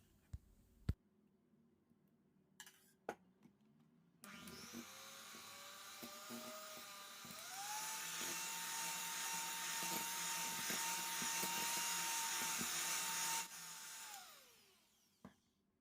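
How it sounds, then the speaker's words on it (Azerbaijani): An electric hand mixer beats custard cream for a honey cake until stiff: a few clicks, then a steady whirring motor that rises in pitch partway through and runs for about nine seconds before winding down. No talking. "Qalan hissəni də üzərinə əlavə edib tam bərkiyənə qədər mikserlə qarışdırıram."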